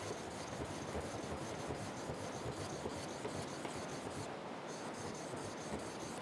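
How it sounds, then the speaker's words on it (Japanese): Japanese plane blade being honed on a whetstone, with a steady, continuous rasping rub that runs throughout at close range with no talking. "刃返りを取ってまた表と裏を交互に少し研いで終わりですね。"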